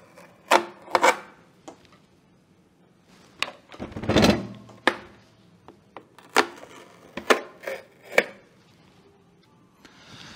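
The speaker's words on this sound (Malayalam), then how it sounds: "ഇതിൻ്റെ രണ്ട് സൈഡിലും ഓരോ സ്റ്റിക്കേഴ്സ് വെച്ചിട്ട് പാക്ക് ചെയ്തിട്ടുണ്ട്, നമുക്ക് ഇളക്കിയെടുക്കാം കേട്ടോ" Packing stickers peeled off the sides of a new air fryer, heard as scattered sharp rips and rubbing crackles with one longer tearing burst, close and fairly loud with quiet gaps between.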